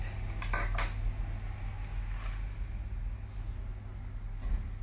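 Straw being cut to even up its ends, heard as a few short, crisp snipping crackles near the start and again around the middle, over a steady low hum in a quiet room.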